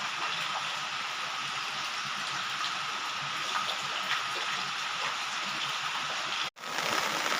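Heavy rain pours down in a steady, dense hiss that continues unbroken, apart from a momentary cut near the end.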